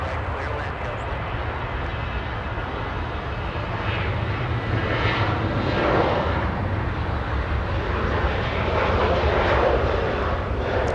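A KLM airliner in KLM 100 Years livery taxis at Los Angeles International, a steady, moderately loud engine rumble and hiss that swells slightly midway and holds throughout, with no speech.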